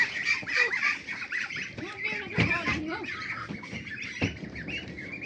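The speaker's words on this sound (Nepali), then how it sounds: "कतिवटा रह्यो हाँस चाहिँ" A flock of farm ducks in rural Nepal quacks and honks in a busy, overlapping chorus of nearby calls, with faint voices mixed in.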